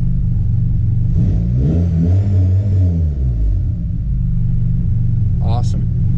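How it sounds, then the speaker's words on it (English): A turbocharged, lowered Honda Accord engine idles with a loud, steady low rumble and a brief rise in revs, heard up close while someone talks over it. "It can go a little bit leaner at idle, but this car tends to misfire if I run it too lean at idle."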